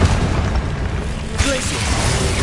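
Spell blasts cast in the video game Hogwarts Legacy: a dense, booming rumble with a sharper burst midway, continuous and loud across the whole stretch.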